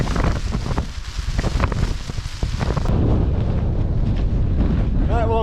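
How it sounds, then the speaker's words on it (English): Strong gusting wind buffets the microphone with a loud, steady roar during a wet wild camp in the mountains, heavy rain adding a continuous hiss, with no talk heard. "We've got like 20-25 mile an hour winds, as I've said, and it's absolutely pissing it down."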